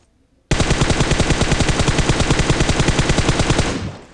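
Sustained automatic gunfire in the video game PUBG Mobile, one long rapid burst of loud, evenly spaced shots lasting about three seconds before cutting off.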